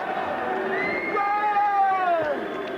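A boxing crowd at a ringside bout voices its displeasure with a sustained, loud mass of booing and babble, rising and falling in pitch as the noise swells throughout.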